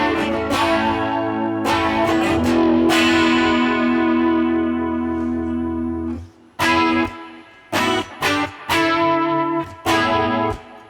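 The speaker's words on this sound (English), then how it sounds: "One of the things that I like to do with vibrato is make it very," Electric guitar played through a Warm Audio C1 chorus/vibrato pedal with subtle vibrato, loud and close, long sustained chords wavering gently, then short stabbed strums with brief gaps between them.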